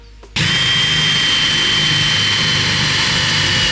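A power drill drives bolts into an e-bike rack, a loud steady whirring motor that starts abruptly and runs continuously close up.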